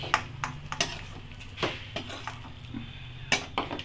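A spatula or spoon clinks and scrapes against a pan while fried lentil dumplings (bori) are lifted out, giving a series of close metallic taps and chinks over a low hiss of hot oil.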